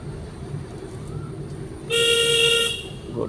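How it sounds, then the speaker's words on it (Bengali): A car horn sounds once in a sustained blast of about a second during a driving lesson, loud over a quiet engine idle and road hum. "এই হচ্ছে হর্ন"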